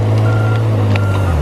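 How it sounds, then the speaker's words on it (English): A Tigercat 635D skidder, a logging machine, sounds its backup beeper over a loud, close, steady engine drone, with the beeper's tone faint and high above the engine throughout the short clip. "it depends on which way you got the seat turned in that machine as to when the backup beeper beeps on it."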